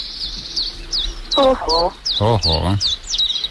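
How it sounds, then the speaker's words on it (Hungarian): Recorded cuckoo song played on a morning radio show: short repeated high chirping calls run throughout, with voices talking loudly over them. "Hívja a kakukkat."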